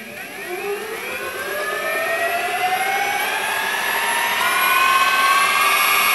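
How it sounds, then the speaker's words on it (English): An Evolve Bamboo GT electric skateboard's rear wheels, fitted with new bearings, spin up in a loud, steady motor whine whose pitch rises smoothly and steadily, close by and with no talk. "I'm going to give it a quick spin. Let's see how those wheels are balanced."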